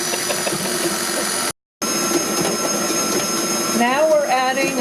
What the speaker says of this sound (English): we're going to turn our mixer back on